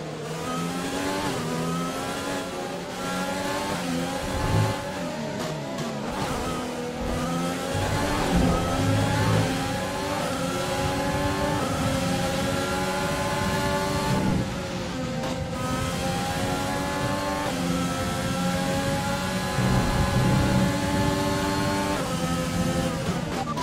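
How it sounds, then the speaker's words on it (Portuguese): Racing car engine in the F1 2020 game with a worn engine, revving steadily and loud throughout, the pitch climbing and dropping through gear changes with brief dips, continuous with no talking. "Vixe, meu, o motor do meu carro tá zoado"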